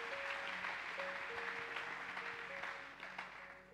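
A church congregation claps together in sustained, even applause, moderately distant, with a faint musical tone running underneath.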